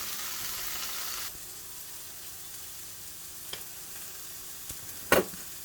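A beef burger patty frying in a pan after cheese is laid on top, with a steady close sizzle that drops in level partway through, then a couple of short clinks or scrapes near the end.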